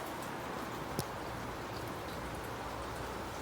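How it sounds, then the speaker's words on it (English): Steady rain during a tropical storm, a continuous wash of dense falling drops with one brief sharper knock partway through, fairly faint and with no voices. "We're in a tropical storm."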